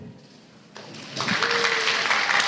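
Journalists at a press conference at the Slavianski Bazaar break into applause that swells from quiet to a steady, moderately loud clatter, with a faint voice and tone mixed in.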